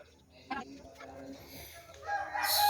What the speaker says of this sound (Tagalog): Ingay pala ng mga manok dito.